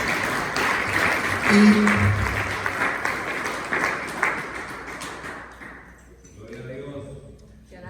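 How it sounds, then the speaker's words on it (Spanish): A church congregation at a Bible study applauding, a dense burst of clapping that fades after about five seconds, followed by a voice speaking. "Regálenselo fuerte el aplauso"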